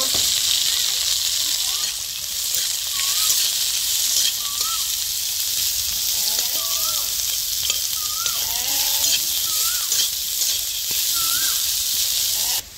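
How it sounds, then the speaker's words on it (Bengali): Green chilli, onion and garlic sizzle and fry steadily in mustard oil in a village kitchen, a continuous loud crackling hiss with stirring, under a faint voice. "কাঁচা লঙ্কা পেঁয়াজ রসুন একসাথে হালকা করে ভেজে নিছি"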